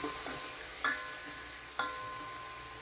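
Onion, garlic and plenty of tomatoes sauté in a pan with a soft, steady sizzle, broken by two faint clicks of a utensil stirring against the pan.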